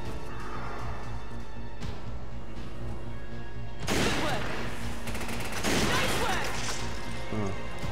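Gunfire from the Resident Evil 5 video game, a dense burst of shots crackling over a steady background bed, loudest in two stretches midway and near the end, with a voice talking over part of it.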